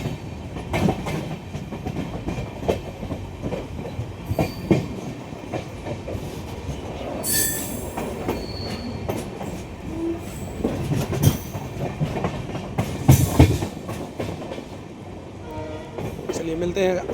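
The Amritsar-Bikaner Superfast Express rolls around a small curve onto the main line, with rhythmic wheel clatter, wheel squeal and horn blasts sounding close and steady throughout.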